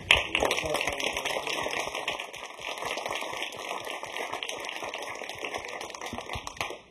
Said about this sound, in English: Isabel, want a round of applause, one more